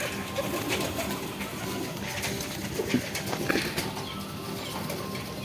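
Pigeons murmur and coo amid a busy flock feeding on scattered corn, with soft wing flutters and scattered bird noise running steadily throughout.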